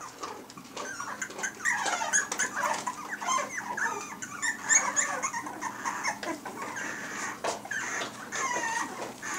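Puppies whimper and yip continuously while a bigger dog plays and growls among them, a busy, close cluster of high whines and squeaks with no one talking.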